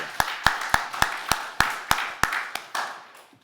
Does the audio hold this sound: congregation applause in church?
yes